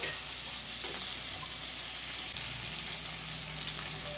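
Garlic, chili, onion and curry leaves fry in a pan with a steady, close sizzle and crackle, with occasional stirring scrapes and no talking.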